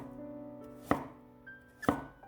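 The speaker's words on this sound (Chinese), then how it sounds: "一根胡萝卜先斜刀切成段" A kitchen knife cutting a carrot diagonally into segments on a board gives two crisp, close chops about a second apart over a low steady hum.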